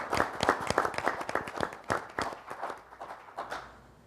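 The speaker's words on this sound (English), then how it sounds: "They deserve a huge round of applause." Applause for municipal employees at a council meeting of a board of mayor and aldermen, a room full of clapping hands that swells loudly and then thins out over about four seconds.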